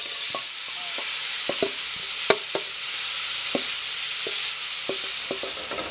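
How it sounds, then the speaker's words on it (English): Onion, carrots and celery fry in a couple of tablespoons of hot olive oil for lentil soup, a constant close sizzle broken by scattered sharp clicks of stirring, with no voices. "A couple of tablespoons of olive oil heating, and we're just going to go ahead and add"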